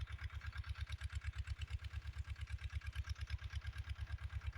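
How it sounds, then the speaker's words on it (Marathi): A tractor engine runs close by on a farm, a steady, loud, low chugging with even rapid pulses throughout and no talk. "आलाय ट्रॅक्टर जवळ आता"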